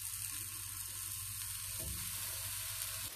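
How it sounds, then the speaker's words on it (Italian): Eggplant slices sizzle steadily in a lightly oiled pan, a continuous bright frying hiss with a low hum beneath and a brief thump near the middle. "Ungiamo di nuovo la padella con un filo d'olio e continuiamo a cuocere tutte le altre."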